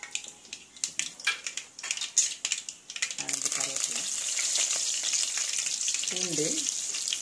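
Cumin and mustard seeds spluttering in hot oil while cooking a ladies finger poriyal, with a steady loud sizzle and crackle filling the pan after some earlier clatter, as a person speaks briefly.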